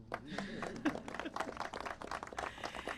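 Scattered clapping from a small audience at a mayoral press conference, uneven and brief, with a voice or two murmuring beneath.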